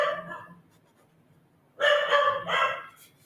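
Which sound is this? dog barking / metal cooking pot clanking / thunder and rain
dog barking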